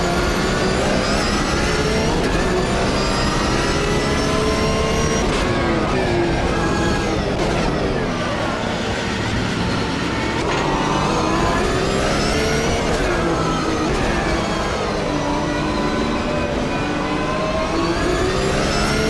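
A Porsche engine in the racing video game Project Motor Racing roars steadily throughout, pitch climbing and falling as it revs through the gears, loud and continuous with no talking.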